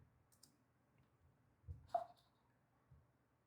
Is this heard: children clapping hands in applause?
no